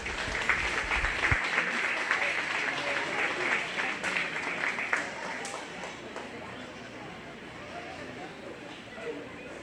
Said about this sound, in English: Go ahead and give her a big round of applause.